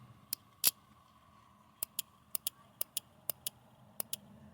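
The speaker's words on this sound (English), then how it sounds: "Load once, you hear a click." A relay from a Hummer H3 lightbar circuit clicks sharply during testing, about a dozen crisp clicks, many in close pairs, alone in a quiet room.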